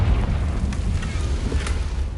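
A fiery spell explosion from Confringo in Hogwarts Legacy gives a steady, loud low roar with crackling bursts throughout. No voices are heard.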